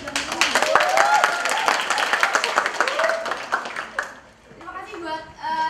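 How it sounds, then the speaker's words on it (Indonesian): Audience clapping and applause at an Indonesian student organization event, with a crowd of hands clapping steadily for several seconds while voices and cheers mix in, then fading as a speaker's voice resumes. "Tepuk tangan dulu buat bidang litbang."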